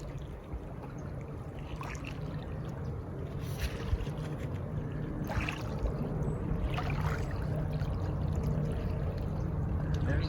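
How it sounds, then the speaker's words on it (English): Steady rushing water and engine roar with wind, bursts of spray rising and falling as an aircraft skims across a lake's surface. "We've got what looks like a forestry plane that's been doing practice runs on the lake"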